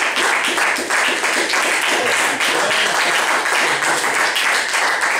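An audience at an award ceremony for a role-playing tournament applauds, dense and loud. The clapping holds steady for several seconds and fills the room.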